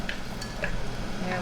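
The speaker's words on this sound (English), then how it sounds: "you just stir everything around for a little bit so that the corn absorbs the butter and the maple syrup flavoring" Corn gets stirred around a pan with butter and maple syrup, giving soft scraping and a few light clinks of a utensil over a low background hum, close and brief.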